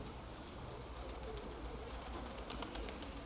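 Pigeons cooing outdoors, a steady low murmur of calls running throughout under broadband ambient noise, with a few brief brighter chirps and rustles; no speech.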